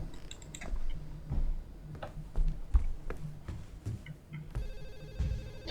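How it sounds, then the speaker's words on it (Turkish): A telephone rings in the video game Hazing Night Shift, with repeated electronic bell tones running through the scene among clicks and background game noise, moderately loud with no talk over it. "Ha telefon."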